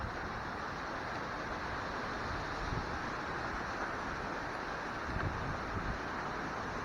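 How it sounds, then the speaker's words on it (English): Strong wind during a rain storm in North West Florida, a steady broadband rushing roar with gusty swells, constant and fairly distant, with no voices. "here's just a sample of the wind"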